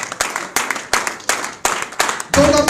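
An audience at a business event in Jaipur claps in hearty applause, sharp repeated bursts of clapping rising and falling, loud and close.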